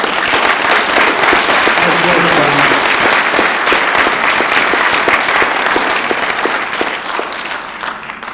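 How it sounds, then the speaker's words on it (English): A large audience gives sustained applause after a tribute to a transplant team, dense steady clapping throughout that tapers slightly near the end. "Please give John Milner and his team a big round of applause."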